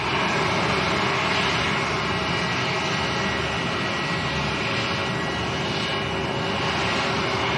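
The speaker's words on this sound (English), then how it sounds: "Noisy aircraft, I'm having to shout now." Loud, continuous aircraft engine roar at Lanzarote Arrecife airport, a broad steady rumble filling the whole stretch, with no talk heard.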